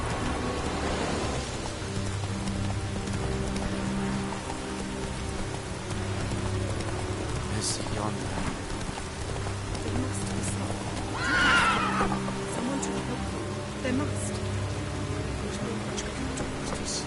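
A horse named Roach neighs once, a whinny rising clearly over steady rain and a low ambient score in The Witcher video game; no distinct gallop stands out.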